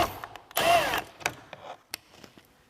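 A 7mm screw being backed out of a Chevy Trax interior door panel, a brief whirring burst from a driver followed by scattered light clicks and taps of the tool and trim, close and fairly quiet.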